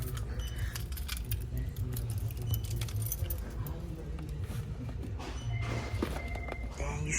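A bunch of keys jangles and clinks close by in bursts of metallic rattling, with background rumble and scattered thuds around a truck.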